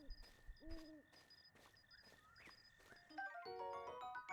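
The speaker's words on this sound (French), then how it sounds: "Il y a un hibou." An owl hoots in The Legend of Zelda: Breath of the Wild, a few soft low hoots early on among chiming game tones and ambient music cues, fairly quiet with no speech over it.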